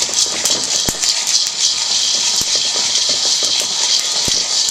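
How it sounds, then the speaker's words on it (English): Coffee beans roasting under a heat gun give off sparse, sharp crackling pops of second crack over the heat gun's loud, constant blowing roar. "What you're hearing now is the second crack."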